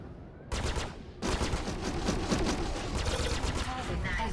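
Spaceship weapons firing in the space combat game Star Citizen, against Vanduul fighters: after a brief quiet start, dense rapid bursts of gunfire erupt and continue loudly, layered with engine rumble and game effects.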